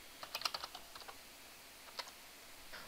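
A quiz question is typed on a computer keyboard for a Kahoot quiz: a quick burst of soft, close key clicks, then a pause and a few scattered presses in a quiet room.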